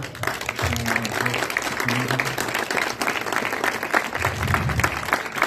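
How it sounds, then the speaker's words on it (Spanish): Crowd clapping at an outdoor ceremony handing over a newly paved, lit and drained street in a neighborhood, steady applause with low voices and rumbling mixed underneath. "sí les pediría que le diéramos un fuerte aplauso"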